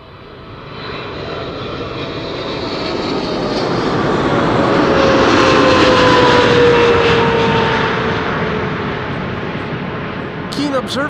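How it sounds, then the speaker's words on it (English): Brand-new Emirates SkyCargo Boeing 777 freighter arriving at Amsterdam Schiphol, its jet roar swelling from moderate to loud and near before easing slightly, with a whining engine tone and talk over it. "It is a 777-300, no, not a 777-300, a 777 freighter"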